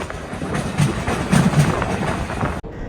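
The White Pass & Yukon Route scenic train runs on its rails with a steady, loud rumble and rhythmic wheel clatter throughout, then cuts off abruptly at the end.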